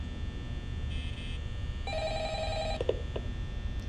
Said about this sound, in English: Wherever the phone is, just answer it, my dude.